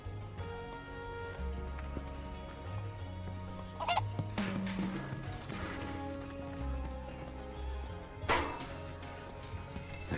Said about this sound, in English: So we just need to catch your chickens, right?